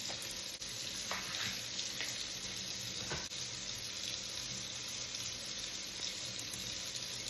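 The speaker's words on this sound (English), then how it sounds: "I'm just going to wash my romaine lettuce" Romaine lettuce being rinsed under a running kitchen tap, a steady close hiss of water splashing over the leaves in the sink, continuous and fairly loud with no talking.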